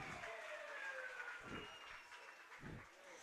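Faint, distant wailing siren at a Batavia baseball game, sweeping in pitch behind low crowd noise and a few soft thumps.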